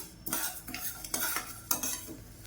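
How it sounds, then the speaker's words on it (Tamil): Raw rice dry-roasting in a pan while stirred, heard as four or five rough scraping sweeps with a grainy rattle and a faint sizzle, close and alone. "இப்போ இதையும் நல்லா வறுத்துக்கணும் பாருங்க இப்போ பச்சை அரிசியை நல்லா வறுத்தாச்சு"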